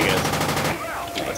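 Rapid gunfire from tanks in the video game Project Reality, a short dense burst of shots, loud and close, fading toward the end.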